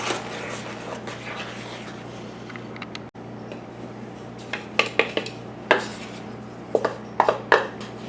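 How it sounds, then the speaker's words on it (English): Flour, salt and cinnamon stirred in a bowl for oatmeal cookie batter, a soft scraping swish that turns into a series of sharp clinks and taps of a utensil against the bowl in the second half. "I'm stirring the flour and the salt and the cinnamon"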